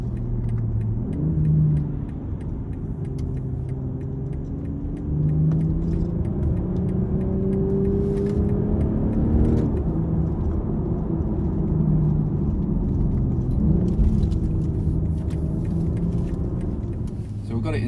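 BMW 4 Series car (G22/G23/G26) driving on the road, a loud steady engine and tyre rumble from inside the cabin, rising and falling gently over about eighteen seconds.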